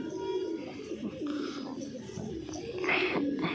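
Pigeons cooing inside a loft, several soft, low rolling coos overlapping continuously and close by, with light rustling underneath.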